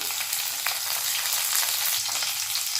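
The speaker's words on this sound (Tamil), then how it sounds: "இப்போ இது மூணுத்தையும் நல்லா ஃப்ரை பண்ணிடலாம்." Garlic and other chutney ingredients fry in a pan, giving a steady, close hiss of sizzling oil throughout.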